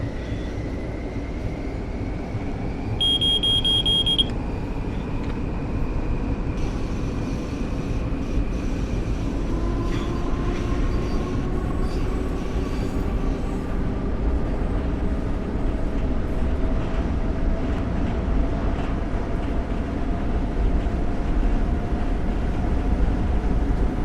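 Long Island Rail Road train in Train Sim World 4 running steadily, its deep continuous rumble and rail roar heard from outside the cab, with faint rising and falling motor whines over about 24 seconds.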